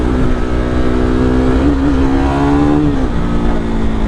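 KTM 390 motorcycle engine with a faulty, laggy throttle, revving loudly and steadily under light gas, its pitch rising briefly and then dipping, heard up close in city riding.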